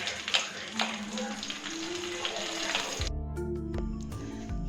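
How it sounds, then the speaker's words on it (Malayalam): Mustard seeds, dried red chilies, curry leaves and asafoetida hit hot oil for a tempering for parippu rasam, breaking into a sudden, loud, crackling sizzle after a stretch of quieter kitchen noise. "നമ്മുടെ പരിപ്പ് രസത്തിലേക്ക് താളിച്ചിടാനായിട്ട് കടുക്, വറ്റൽമുളക്, കറിവേപ്പില, പിന്നെ ആവശ്യത്തിന് കായപ്പൊടി"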